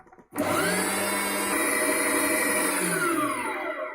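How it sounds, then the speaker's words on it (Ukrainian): An electric meat grinder mincing zander fish with soaked bread and chopped onion, a loud steady motor whine starting abruptly and droning on close by, with no talking. "все це зараз будемо перекручувати через мясорубку"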